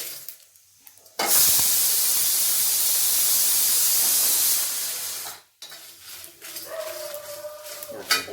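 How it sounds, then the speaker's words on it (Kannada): Mustard seeds, dry red chilli and curry leaves hit hot oil for sambhar and burst into a loud, close hiss and crackle lasting several seconds, then cut off, followed by quieter clatter and faint background sounds. "ಸಾಸಿವೆ ಚಟಪಟ ಅನ್ನೋಕತ್ತವೀಗ"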